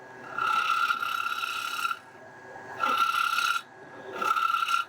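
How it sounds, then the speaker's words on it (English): A wood lathe turns a potpourri pot as a tool cuts the spinning wood in three rasping passes, each a steady scraping burst over a constant motor whine, with short quieter gaps between. "Turn the lathe down a bit because that's a bit much."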